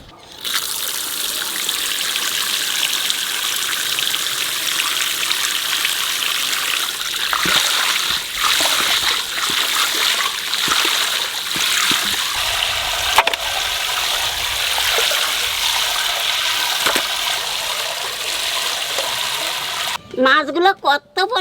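Water runs and splashes steadily as pieces of cut katla and chitol fish are rinsed by hand, with irregular splatters and dribbles throughout and a brief clatter near the end.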